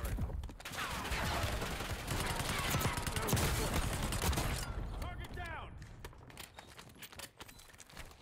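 Gunfire in the video game Warzone: dense, continuous bursts of shots close by for about five seconds, thinning into scattered, fainter shots with some game sounds afterward.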